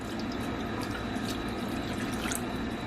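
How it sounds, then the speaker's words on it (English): Water poured into a bowl surrounding a coconut flan dish in a water bath, a steady, continuous splashing stream heard up close with no pauses. "we're gonna add some water on the surroundings"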